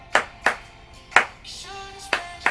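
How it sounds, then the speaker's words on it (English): Sharp, separate hand claps in a song land in an uneven rhythm, about six claps, with a brief synth tone between them, fairly quiet overall. "Love the clapping right here."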